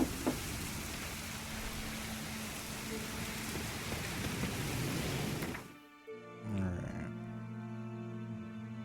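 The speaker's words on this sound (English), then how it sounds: "Looks like rain." Steady rain in The Witcher 3 hisses over everything for several seconds, then cuts off abruptly, followed by quiet tonal hums.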